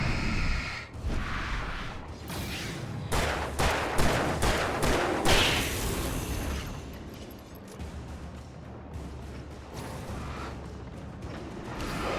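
Bursts of gunfire from the Alan Wake Remastered video game, a dense volley of sharp repeated shots in the opening seconds that thins into scattered, fainter reports and a low rumbling backdrop, with no voices.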